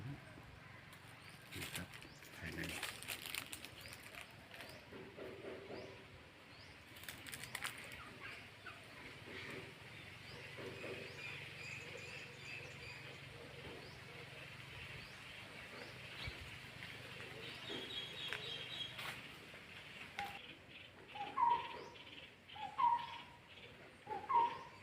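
Birds call inside a large echoing Buddhist temple hall, faint at first, then three short, clear calls repeat near the end over quiet background murmur.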